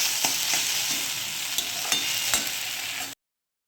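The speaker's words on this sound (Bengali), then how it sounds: "অনেকটাই ভাজা ভাজা হয়ে গেছে" Steady loud sizzling of food frying in a pan, with occasional scraping clicks from stirring, then it cuts off abruptly.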